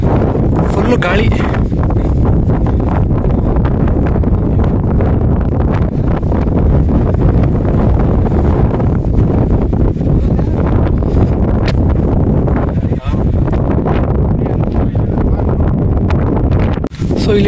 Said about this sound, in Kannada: ಫುಲ್ಲು ಗಾಳಿ.